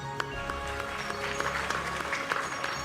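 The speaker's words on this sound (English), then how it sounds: "Please, a round of applause." An audience applauds at a lifetime achievement award presentation in a ceremonial hall, a fairly faint, distant wash of clapping over a steady low hum and background music.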